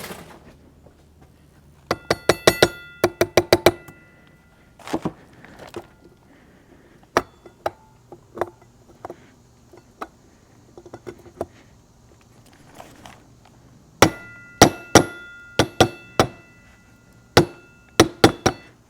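A small rubber-tipped hammer taps on a part during reassembly of a GM NP8/NP246 transfer case for a Chevy or GMC, producing clusters of sharp, ringing metallic knocks in quick bursts with pauses between, close and loud.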